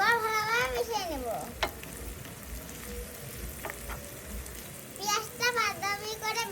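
Chopped onions frying with garam masala in a pan, a continuous sizzle and stirring underneath, with children's voices chattering at the start and end.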